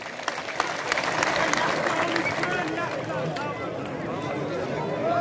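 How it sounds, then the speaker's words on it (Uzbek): A crowd applauds wrestlers at a big village wrestling match in Varganza, Kitob district, Qashqadaryo, a dense outdoor wash of clapping with voices mixed in, sustained throughout. "bitta qarsak bo'lsin bularga"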